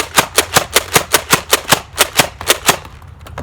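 Rapid slam-fire shots from a 3D-printed Megalodon Nerf shotgun blaster: about a dozen sharp, loud pops in a steady, quick rhythm, close up, with no talking, ending in a brief quiet tail.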